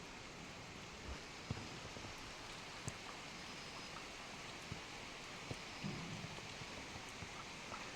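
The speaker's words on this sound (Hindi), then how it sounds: "हल्की हल्की बारिश हो रही है" Light rain falling outdoors at a hillside home in Ramgarh, Nainital, a steady soft hiss with occasional faint drip ticks, continuous and even throughout.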